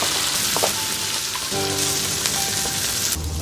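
Dry-pot spare ribs fry with onions and green and red peppers in a hot wok, a loud steady sizzle with a few scraping stir strokes, no talk.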